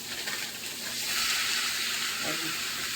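Grass-fed beef sizzles in a hot cast iron skillet on a range, a close, continuous hiss that swells louder after the first second and holds steady.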